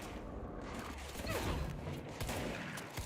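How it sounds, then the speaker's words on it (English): Explosions rumble and crackle in the video game Control: a dense, continuous barrage of blasts and gunfire-like bursts that stays busy throughout. "Whoa, we got explosions everywhere."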